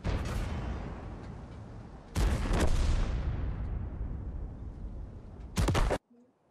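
Tank cannon shots in the World of Tanks game, three heavy booming blasts, each followed by a long rumbling decay, loud and close, the last cut off abruptly.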